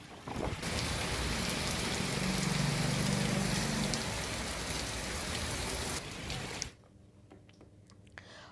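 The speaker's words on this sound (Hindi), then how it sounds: "भिंड में तेज हवा के साथ झमाझम बारिश हो रही है" Heavy downpour with strong wind in Bhind, a dense steady roar of rain lashing surfaces for about six seconds before it abruptly drops to a quieter patter with scattered drips.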